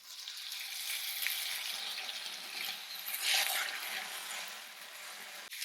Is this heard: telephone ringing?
no